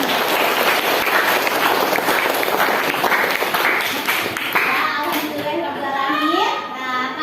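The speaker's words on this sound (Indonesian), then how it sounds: "Oke, kita beri tepuk tangan." Dense clapping from a class of schoolchildren fills the first few seconds, then fades as children's voices and chatter take over.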